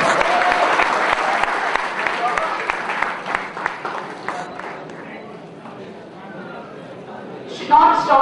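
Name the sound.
audience applause for a speaker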